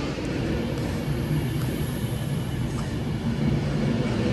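An Avanti West Coast service bound for Manchester Piccadilly arrives at Stafford station, a steady, loud rumble of the train rolling along the platform with a broad, even roar throughout.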